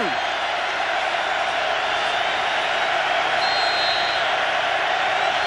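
Loud, continuous roar of a packed football stadium crowd at the 2003 Michigan vs Oregon college game, a dense unbroken wash of noise holding steady the whole time.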